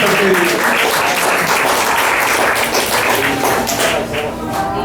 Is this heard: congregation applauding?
yes